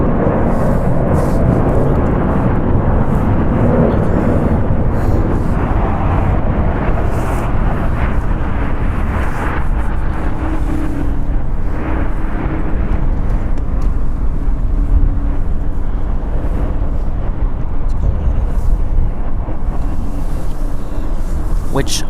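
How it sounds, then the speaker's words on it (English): An Airbus A319 takes off at LAX, a loud continuous engine rumble mixed with wind buffeting on the microphone, steady throughout with a voice talking faintly over it. "We have an Airbus A319 taking off."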